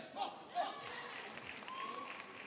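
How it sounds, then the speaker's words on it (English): Crowd in a table tennis arena at a men's doubles final, with vocal Korean fans giving brief bursts of applause and cheering that sit low and distant under a steady hall murmur. "You can hear some very vocal Korean fans in the crowd."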